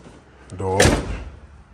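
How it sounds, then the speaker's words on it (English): A 1992 Camaro's door, on a 30-year-old car, opens with a single muffled clunk right after a brief voice, close and fairly loud. "door opening, as y'all see"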